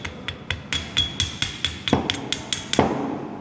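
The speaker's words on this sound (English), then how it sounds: "Other hand using the chipping hammer to remove the spatters." Repeated sharp taps of a chipping hammer knocking spatter off an arc-welded steel butt joint, about a dozen quick metallic strikes in steady rhythm, close and clear, with a couple of heavier knocks near the end.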